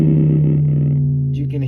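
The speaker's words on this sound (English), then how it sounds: "sine wave, just a single sine wave" A Woovebox synthesizer plays a steady, loud, sustained low tone from a single sine wave, holding without a break and then shifting slightly near the end.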